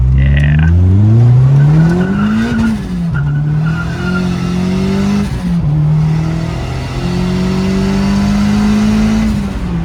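A turbocharged burnout car pulls hard under boost, its engine note climbing steadily with rising harmonics while tires squeal and skid, loud and close for the whole stretch.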